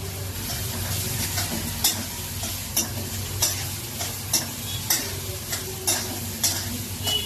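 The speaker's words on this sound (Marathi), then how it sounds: "2 बारीक चिरलेले कांदा चांगले परतून घ्यायचे." Finely chopped onions sautéing in a pan for pohe: a steady sizzle under a regular rhythm of about a dozen spatula strokes roughly every half second, close and clear.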